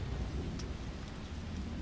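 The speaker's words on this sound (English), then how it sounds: "Oh, it's all rainy and beautiful." Heavy rain pours in the horror game The Evil Within, a dense, unbroken wash of noise with a deep rumbling undertone, with no voices over it.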